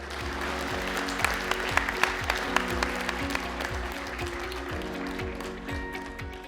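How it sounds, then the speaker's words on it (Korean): A crowd claps to welcome the head of the Busan Buddhist lay federation at a Buddhist New Year gathering, a sustained even wash of applause with a few sharper individual claps and low hum beneath. "큰 박수로 모시겠습니다."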